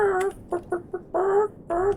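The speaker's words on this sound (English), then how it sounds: "Look in there, those are chickens." Chickens in the video game Startioneers cluck and squawk in a few short, tonal bursts, loud and close, with no talk over them.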